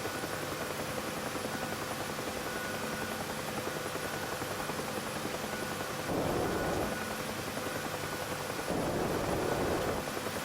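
A Gazelle helicopter flies in the DCS simulator, a steady whirring rotor and turbine drone with a faint constant whine, swelling briefly louder twice near the end, no voices.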